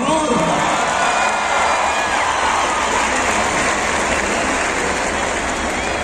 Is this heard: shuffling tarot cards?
no